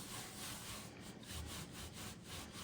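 A hand rubs a piece of fabric flat in rapid back-and-forth strokes, a soft, faint, rhythmic scratchy brushing close up with no talk.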